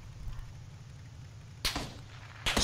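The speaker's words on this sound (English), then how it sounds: "Someone's shooting!" Gunfire in PUBG near a barn, two sharp distant shots about a second apart cutting through a low engine-like rumble, with no talk over them.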